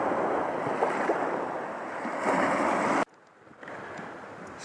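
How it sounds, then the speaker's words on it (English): Waves wash in steadily on a sandy Lake Michigan beach at dusk, a broad close rush with wind over the microphone, cutting off abruptly near the end to a quieter, distant surf. "you can see the waves have come right to where my feet were"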